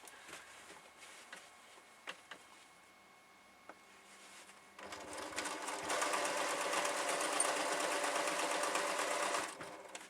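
A small domestic sewing machine with a 7-inch throat quilts a large quilt, first quiet fabric handling and taps, then a steady loud rapid stitching whir for several seconds before stopping.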